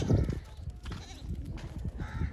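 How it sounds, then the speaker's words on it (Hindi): A goat being handed over on a farm in Punjab bleats with a few short, fairly close calls amid livestock noise, mixed with background voices. "ये रही आपकी दूसरी बकरी।"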